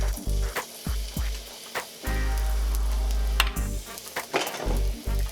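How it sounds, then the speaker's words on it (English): Garlic added to hot oil for pasta aglio e olio, a close steady sizzle with crackling bursts and a few clattering knocks from the pan, no talking. "you're going to want to add your garlic."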